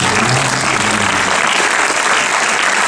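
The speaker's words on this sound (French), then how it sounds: "mais ça s'applaudit" A film preview audience applauds loudly, a dense, steady wash of many hands clapping together with no pause, close and full for its whole length.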